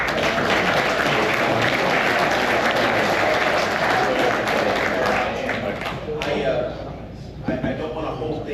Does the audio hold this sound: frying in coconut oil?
no